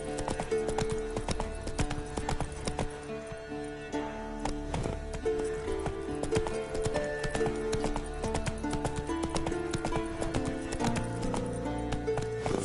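Roach, a horse in a video game, gallops steadily with rapid rhythmic clip-clop hoofbeats over a layer of game music, with a brief whinny somewhere in the mix.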